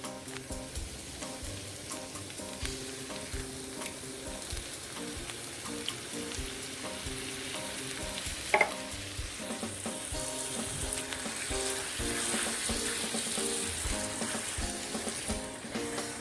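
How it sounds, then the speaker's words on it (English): Crushed tomatoes hiss and bubble in a skillet with sausage, a steady close sizzle with soft crackles and one brief clatter midway, continuing alone without talk. "Now I'm going to add my can of crushed tomatoes."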